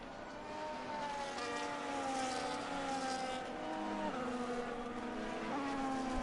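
Race cars on a formation lap in a racing game at Spa hum past with steady, rising engine whines, faint and distant, several tones overlapping as the pack moves together.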